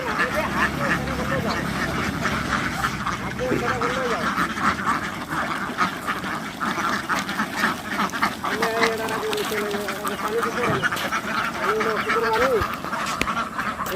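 Ducks quack continuously on a crowded duck farm, many overlapping calls close and far forming a steady, busy din with people's voices mixed in underneath.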